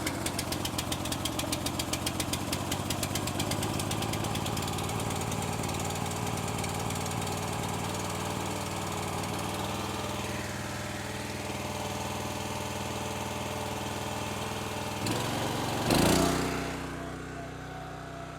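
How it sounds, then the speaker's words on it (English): A small gasoline engine on a log splitter runs steadily with a knocking, chugging rumble, close and loud throughout, then a brief rough surge near the end as it cuts off. "it's the loud engine noise from the log splitter"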